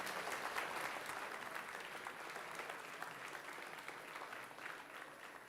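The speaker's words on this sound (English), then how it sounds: "All right, another round of applause for that team," Sustained applause from an audience at a student robotics competition awards ceremony, a dense, steady wash of clapping that holds at an even level for the whole stretch.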